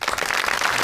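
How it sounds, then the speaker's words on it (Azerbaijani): A theatre audience at a comedy stage show applauds in a short, dense burst of clapping with no voices over it. "Alqışlarınızla."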